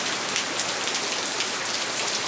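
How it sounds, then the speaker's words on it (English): Heavy rain pours down steadily outdoors at a Jeep JK axle swap, a dense, continuous hiss of drops drumming on surfaces, loud and close throughout with no voices. "it's downpouring and raining"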